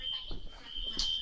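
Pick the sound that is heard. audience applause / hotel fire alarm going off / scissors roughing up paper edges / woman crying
hotel fire alarm going off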